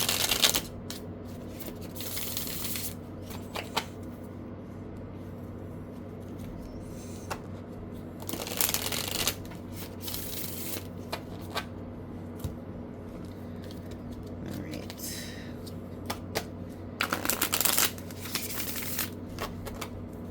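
A tarot deck being shuffled by hand, with bursts of crisp card riffling and rustling at a few points over a steady background hum, close and moderately loud.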